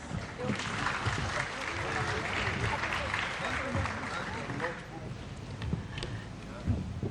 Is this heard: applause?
yes